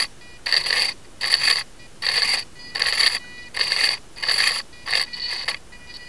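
Servos on a 450-size helicopter swashplate, running Tarot ZYX-S flybarless firmware, buzz in eight short, evenly spaced whirring bursts as the elevator is moved back and forth, close and fairly loud with quiet gaps.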